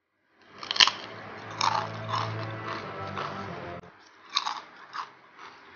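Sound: crunching on big wavy Lay's potato chips

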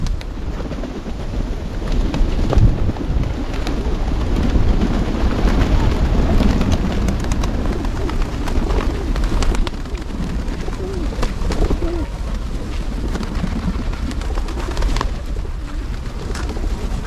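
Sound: pigeons cooing and flying around people feeding them

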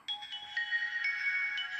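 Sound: retro mobile phone switching on, startup melody

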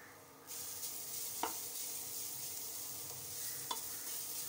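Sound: coconut mixture being sautéed in a pan

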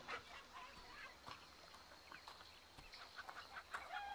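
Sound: chickens clucking in the video game Fable The Lost Chapters

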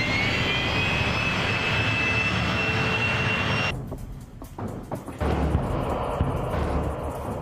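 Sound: airplane engine in flight

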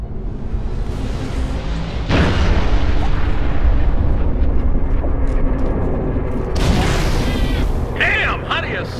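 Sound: artillery fire explosions in Halo video game

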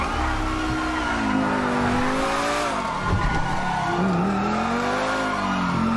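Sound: car driving and revving in the video game GTA V

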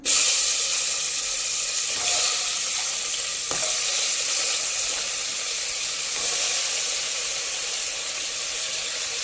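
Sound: goat head pieces sizzling as added to curry pan

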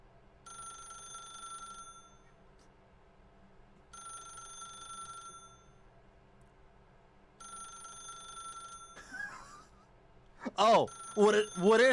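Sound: telephone ringing in The Stanley Parable video game

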